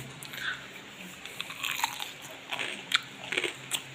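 Crunchy batter-fried pork belly bitten into close up, several crisp crackling crunches followed by quiet chewing over a faint room background.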